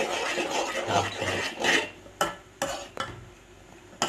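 A spoon stirs a pot of corn porridge: a rough scraping swirl gives way to a few sharp, separate taps against the pot, close by and with no talk.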